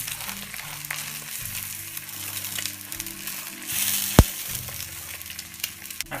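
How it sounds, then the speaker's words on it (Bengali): Sausage pieces and egg frying in a pan with bread, a steady close sizzle with a brief sharp clack partway through and low background hum. "এখন আমরা চুলার আঁচটা একটু কমিয়ে দিয়ে অল্প আছে কিছুক্ষণ ভাজি করব।"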